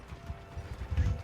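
Hooves of Kelpie, a horse in the Witcher 4 Unreal Engine 5.6 tech demo, clip-clopping in a quick soft rhythm of several steps, fairly quiet and close, with no talking.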